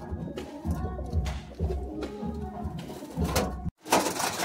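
Madrasi pigeons kept at a home loft give low rolling coos in overlapping bursts nearby, with a brief dropout and a sharp knock near the end.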